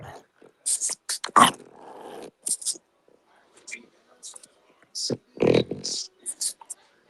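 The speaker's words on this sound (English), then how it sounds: "My God, this dog is driving me crazy. It's one of those French bulldogs." A French bulldog growls and snuffles close by in irregular short bursts, with wet snorts and low rumbles separated by quiet gaps and a few faint whispers.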